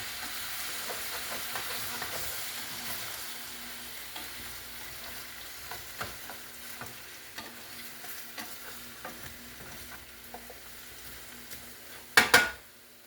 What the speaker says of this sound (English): And I'm going to put a little bit of my sauerkraut in here. A little bit of the juice. Just to pick up off that, deglaze the bottom of this pan.